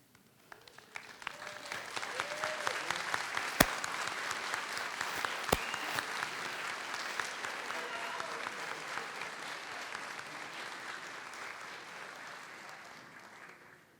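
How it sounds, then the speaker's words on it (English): Graduates at a high school summer commencement in Hampton City Schools applaud their teachers and staff: sustained crowd clapping that swells over the first seconds, holds steady, then slowly thins toward the end. "we all stand to applaud and thank those teachers and staff members"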